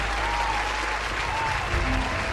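Audience clapping loudly for a magician's trick at a stage show, a dense steady burst of applause lasting the whole moment with no voices over it.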